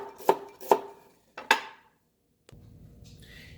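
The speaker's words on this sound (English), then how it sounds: "Brussels sprout, it's good for stir fry. But you gotta cut it really thin." Brussels sprouts sliced thin with a knife on a board: three sharp, close chops spaced about half a second apart, then a pause and a soft clatter.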